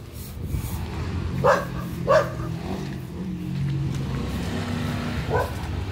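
A dog barks a few sharp times, with a couple of barks close together and another later, over a low rumbling vehicle-like background.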